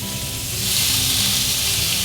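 Steak sizzles loudly in a hot skillet, a steady hissing fry that swells slightly partway through and carries on alone without talk.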